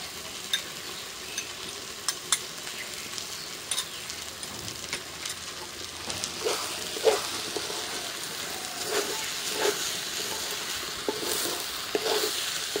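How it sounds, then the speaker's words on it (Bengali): Ginger paste and salt frying in a pan while being stirred, a continuous soft sizzle with scattered crackles and scraping clicks throughout, fairly quiet and steady with no talking. "আদা বাটা দিয়ে দিই।"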